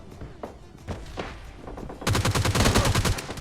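A G3 rifle fires in the video game PUBG Lite, starting as scattered distant shots and then a loud, rapid burst of close gunfire.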